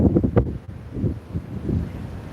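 Cold wind buffets the microphone on a Royal Caribbean cruise ship deck sailing away from Flåm, Norway, low gusty rumbles that swell and ease in uneven bursts, loud and close.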